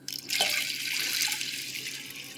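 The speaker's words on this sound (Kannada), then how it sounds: "ಇದಕ್ಕೆ ನೀರು ಹಾಕ್ತಾಯಿದ್ದೀನಿ." Water splashes steadily from a tap or jug into a bowl of washed, soaked fenugreek seeds, starting with a sudden gush and running continuously up close with no talking.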